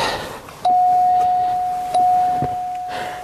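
A steady electronic seatbelt warning chime in a 1979 Lincoln Continental rings repeatedly at regular intervals, each ding sustained into the next, close and clear.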